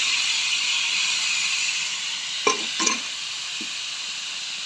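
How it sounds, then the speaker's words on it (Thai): Pork stirred into Thai green curry paste in a hot pan gives a steady bright sizzle and hiss. Two brief scraping knocks of a spatula come near the middle of the clip, with no talking. "เทหมูลงไปแล้วผัดให้เข้ากันค่ะผัดให้หมูสุกนะคะ"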